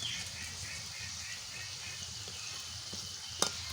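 Gaja pastry frying in hot oil, a continuous close sizzle and bubbling hiss, with a sharp metallic tap near the end.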